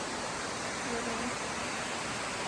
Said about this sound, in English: It looks like a really small waterfall, but it's actually not.